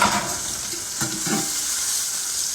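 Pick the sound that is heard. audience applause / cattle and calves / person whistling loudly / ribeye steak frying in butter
ribeye steak frying in butter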